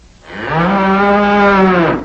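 A man imitates a cow with one long, loud, sustained moo, close and alone.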